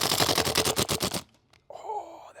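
A CYMA Noveske N4 gas blowback airsoft rifle, a used gun with a brand-new magazine, fires a fast full-auto burst of sharp close cracks, then cuts out to near silence before a person speaks.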